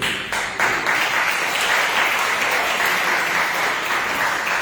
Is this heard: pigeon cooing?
no